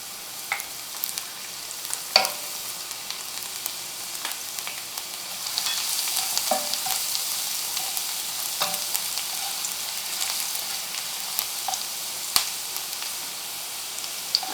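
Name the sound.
chopped garlic frying in hot oil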